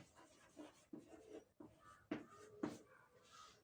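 A marker or chalk scratches across a classroom board during an English grammar lesson, in several short irregular strokes with pauses between them, close and fairly quiet.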